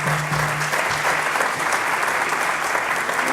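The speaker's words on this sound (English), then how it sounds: "Let's hear a round of applause for Tom." An audience applauds Tom Daly at a Coca-Cola Company keynote, steady dense clapping sustained throughout, loud and even with no voices over it.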